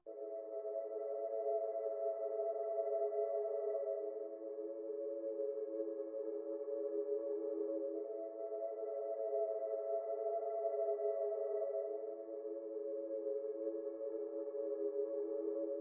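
Soft, steady synthesizer pad chords hold and shift gently, a smooth sustained drone with no voices, moderately quiet throughout.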